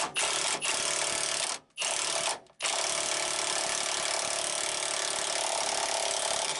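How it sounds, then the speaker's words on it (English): Milwaukee impact wrench driving a body lift bolt on a Jeep Wrangler TJ, a loud close rattling hammer in long bursts with two short pauses, then one sustained run. "I'm going to crank this one down, and we'll see what happens with that with my Milwaukee Impact."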